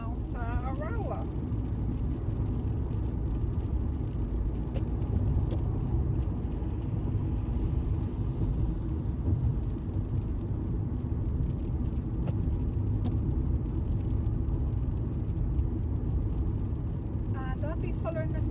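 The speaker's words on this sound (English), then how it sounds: "I'm in fourth gear now, and I'm at 40 miles per hour." A car driving steadily at 40 mph in fourth gear makes a continuous low engine and road rumble that stays even throughout, with a voice talking over it now and then.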